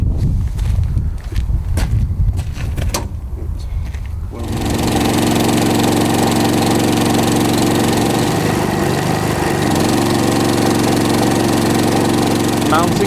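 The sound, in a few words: engine of a piling rig running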